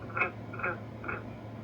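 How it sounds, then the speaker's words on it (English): Frogs croaking near a small garden water feature, three short croaks spaced about half a second apart over a steady low outdoor hum, faint and somewhat distant. "I get to hear the frogs sometimes on this camera here"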